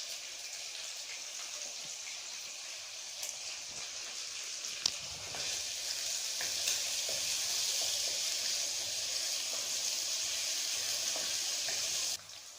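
Chicken frying in a pan with whole cumin seeds gives a steady hissing sizzle that swells louder partway through, holds, then cuts off abruptly near the end.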